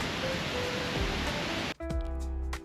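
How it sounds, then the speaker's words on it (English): Wachirathan Waterfall in Doi Inthanon, Chiang Mai, Thailand, gives a dense, steady roar of rushing water heard from the parking area, cutting off abruptly partway through. "You can actually get a great view and hear the impressive sound of the falls right from where you park."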